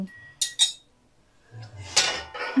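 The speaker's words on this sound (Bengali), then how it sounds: "দেখো আমি ঢাকা দিয়ে রাখলাম" Metal lid set onto a cooking pot holding bottle gourd simmering in water, a couple of sharp clinks early, then a longer clattering rattle near the end, close and fairly loud with quiet gaps between.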